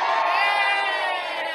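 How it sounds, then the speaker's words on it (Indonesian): A studio audience at an Indonesian television variety show cheers and whoops loudly for Bang Medi, a dense continuous roar of many voices close up throughout. "Kalau tepuk tangan buat Bang Medi mana?"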